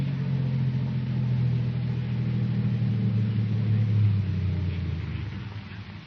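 A car pulling up and rolling to a stop as a sound effect in an old radio comedy, a steady low engine rumble that holds and then fades away, lo-fi and alone.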